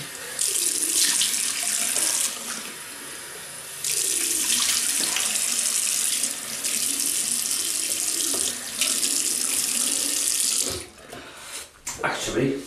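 Tap water runs steadily into a sink while a vintage Merkur open comb travel razor is rinsed, the broadband hiss pausing briefly a few times and cutting off near the end, close and loud with no talk.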